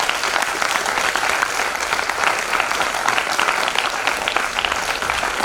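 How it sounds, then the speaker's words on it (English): Loud, sustained applause from an audience at a senior-division English debate, a dense, even roar of clapping that holds steady throughout with no break. "A very loud round of applause for these brave souls"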